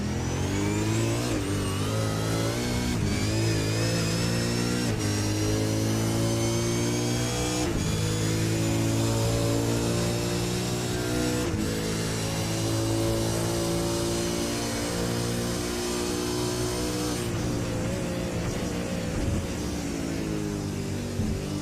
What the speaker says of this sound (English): This is the sure sounds of the game. Crank it up and have a listen.